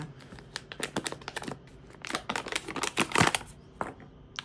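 A package of oats being opened up close, with a busy run of crinkling plastic, tearing and rustling bursts that rise in intensity midway and then trail off into a few scattered crackles.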